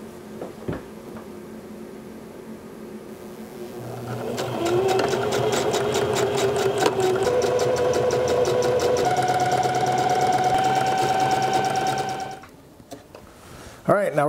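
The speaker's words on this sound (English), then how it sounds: "We're gonna sew across one end and then all the way down the long side there." A sewing machine stitches a half inch seam along a fabric tie, starting with a few clicks and then running in a steady, loud mechanical whir for about eight seconds before stopping, with a person talking around it.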